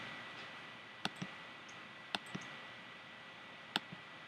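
Three pairs of crisp computer mouse clicks, each a sharp press and softer release, spaced about a second apart in a quiet room with faint background hiss.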